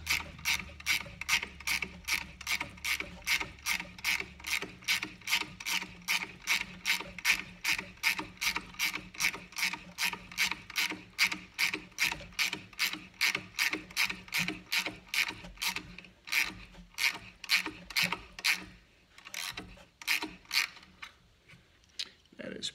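A ratchet works a supercharger belt tensioner nut with a long, even series of sharp, close clicks at a steady rhythm, slowing and becoming sparser toward the end.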